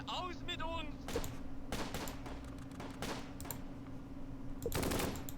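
Machine gun bursts in the Close Combat: Gateway to Caen multiplayer wargame, several rattling volleys separated by short gaps, loud and close, alongside a brief voice at the start.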